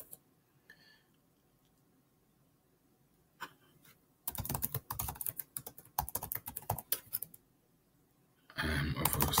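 Someone types a password on a computer keyboard, a few isolated taps followed by a steady run of close, crisp keystrokes, then a louder clattering burst at the end, with no voices.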